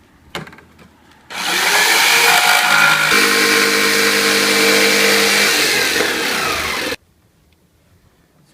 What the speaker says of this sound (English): So I'm just using the regular jigsaw.